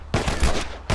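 Gunshots from The Last of Us video game: two sharp, loud reports about three-quarters of a second apart, the first with a brief rattling tail, heard alone with no talk.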